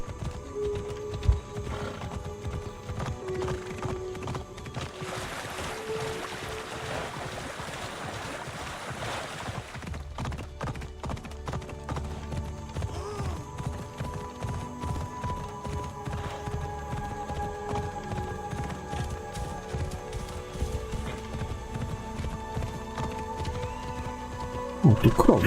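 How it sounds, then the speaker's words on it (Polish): Horse hooves clip-clop at a steady gallop in the video game Assassin's Creed Odyssey, continuous and fairly close over ambient game sound, with a person talking over it. "Użyjemy kunia."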